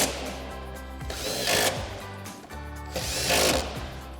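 An impact wrench fitted with a 13mm socket runs in two close bursts, whirring and hammering steadily as it tightens strut bolts on a 2016-2024 Camaro; the sound is near and fairly loud.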